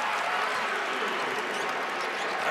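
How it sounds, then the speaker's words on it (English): A basketball crowd at the Carrier Dome cheers and applauds after the home team finally scores, a dense, continuous roar of voices and clapping filling the arena at steady loudness. "I always look at the crowd after the team finally scores, and it's a very sarcastic cheer, right?"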